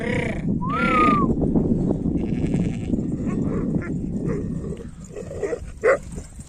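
Barking dog amid bleating sheep, with a short whining yelp early on and scattered animal cries over a busy, noisy background.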